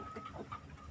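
Free-range village chickens clucking in a short, faint burst of a few clucks.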